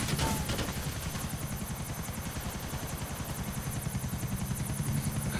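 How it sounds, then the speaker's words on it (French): A helicopter in GTA 4 gives a steady, rapid rotor thump over a continuous engine whine, sustained and close throughout with no talking. "Mon dieu, Jack, il pilote un hélico."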